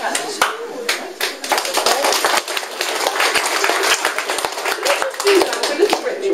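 Rhythmic hand clapping in a room, a fast run of sharp claps from several hands during a demonstration of Temiar shamanic healing practice, with voices talking over it.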